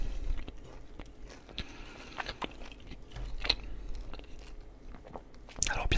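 Close-miked bites and chewing of an industrial pizza in a quiet ASMR tasting session, with soft scattered crunchy clicks and mouth sounds at a low level and a slightly louder bite near the end.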